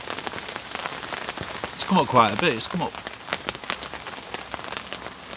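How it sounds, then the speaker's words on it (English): Steady rain patters on a lake's surface during a carp fishing session, a dense crackle of drops close by, while someone talks over it for a few seconds in the middle. "Man, the lake definitely needs this rain."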